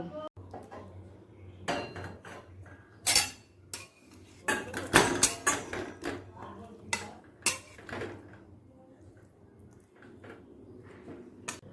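Fish roe fritter and potato curry being ladled from one pot into another, with irregular metallic scrapes, clinks and knocks of utensil against cookware, some loud and some soft, and brief background talk.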